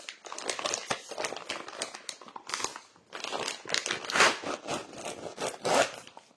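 Plastic packaging holding cross-stitch supplies from a Cross Stitch shop crinkles and rustles as it is torn open, close and busy, in a series of bursts with brief pauses.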